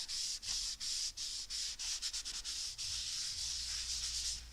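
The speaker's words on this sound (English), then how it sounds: "I just rub off that excess" Excess medium is rubbed off a handmade holiday card in quick rhythmic strokes, a close, soft scratchy rubbing that pauses briefly between passes with no voices.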